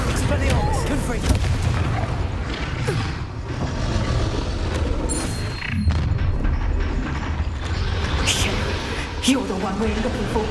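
Booming Confringo spell blasts from the Hogwarts Legacy video game go off repeatedly amid dense combat effects, with voices throughout.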